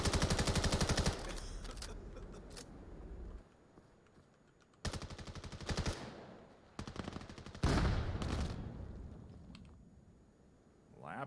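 Rapid automatic gunfire in the VR shooter VAIL, several loud bursts separated by short gaps, with quieter clicks and a voice talking faintly underneath.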